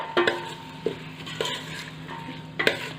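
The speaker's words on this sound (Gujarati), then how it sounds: "હું અત્યારે બધી ડુંગળી ઉમેરી દઉં છું અને સરસ આપણે ડુંગળીને સાતળવાની છે" Chopped onions are stirred and sautéed in a pan for pav bhaji, with a few sharp spoon knocks against the metal over a faint, low sizzle.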